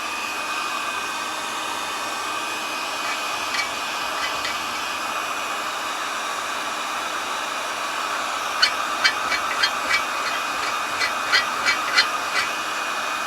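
A heat gun stripping paint from a cast iron pipe: a steady, close blowing whoosh throughout, with a cluster of faint rhythmic tapping or scraping clicks near the end and no talking.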